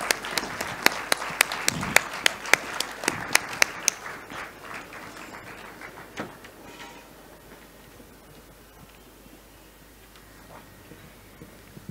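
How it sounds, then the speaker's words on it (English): Audience clapping for panel speakers at a conversation session starts as a run of sharp, rhythmic claps and then fades into scattered, quieter clapping and room noise. "Can we please have a huge round of applause for them?"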